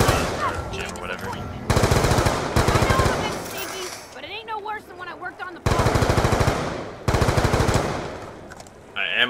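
Rapid automatic gunfire in Black Ops 3 comes in several sustained bursts separated by short gaps, loud and close, with quieter game sounds in between.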